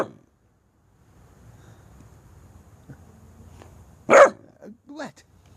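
A dog with the hiccups gives a loud, close bark, then a couple of smaller yelps and hiccup-like sounds, while a person talks quietly before it.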